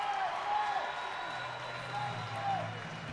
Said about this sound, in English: As you can hear the fans clapping on the save